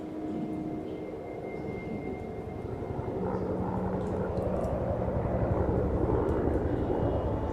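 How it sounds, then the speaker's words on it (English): A Huey helicopter flies in the distance over remote wilderness, its low engine drone steady and swelling gradually louder without ever coming close. "A helicopter!"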